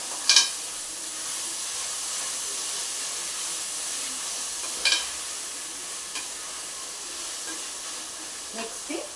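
Tomato, green chilli, mint and coriander sautéing in a pan give a steady broadband sizzle throughout, with a few sharp scraping clinks from the spatula as they are stirred. There is no talk.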